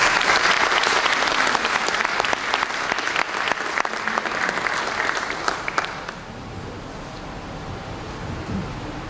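An audience claps loudly for a film and its director at a San Carlos public accounts event, dense sustained applause for about six seconds that then drops abruptly to a quiet room.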